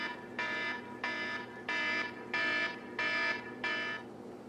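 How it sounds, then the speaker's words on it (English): A kitchen alarm goes off while cooking, beeping in six even, loud bursts about every 0.7 seconds, clear against a faint background hum with no talking. "until my alarm goes off."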